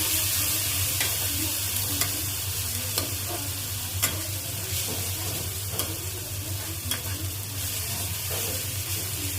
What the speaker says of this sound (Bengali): আদা রসুন বাটা দিয়ে দিচ্ছি।